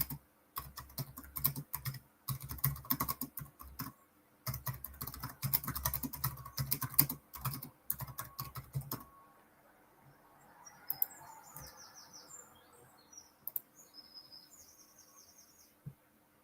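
Fingers tap a computer keyboard in quick, irregular bursts with short pauses, close and clear, then the typing stops and faint crickets and distant birds remain in a quiet room.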